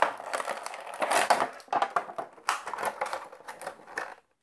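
A Transformers Robots In Disguise Scorponok toy is pulled from its packaging, with close crinkling, snapping plastic and cardboard tearing in short uneven bursts before falling silent.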